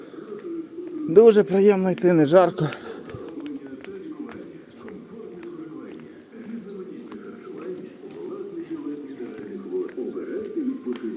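Soft pigeon cooing repeats in the background under a steady low murmur on a street in Truskavets, Ukraine, with a brief louder burst of other sound early on.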